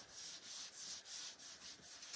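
Fine sandpaper rubs back and forth on wood in a steady rhythm of about eight short, soft strokes, close up and quiet.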